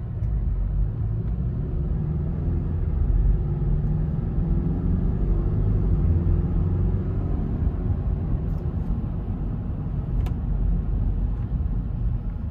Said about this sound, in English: And then the car start again without doing anything.